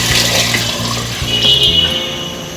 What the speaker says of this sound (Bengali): মেজারমেন্ট কাপের 6 কাপ আমি জল দিয়ে দিলাম।